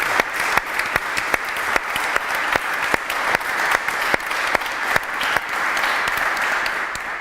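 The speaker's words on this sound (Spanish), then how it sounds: "Un aplauso, por favor." Steady audience applause at a round-table panel in Vitoria-Gasteiz, dense clapping from a seated crowd running evenly for several seconds with sharp individual claps standing out, no talk over it.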